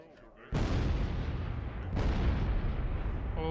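A dwarf cannon fires grape shot in a Warhammer strategy video game, with two loud booming blasts about a second and a half apart, each trailing off into a long rumbling roar.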